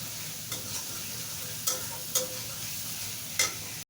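Spice paste with ginger-garlic paste and green chillies stir-fried in oil for a shrimp curry with water lilies. A soft, continuous sizzle runs throughout, broken by four sharp spoon scrapes against the pan. No one speaks.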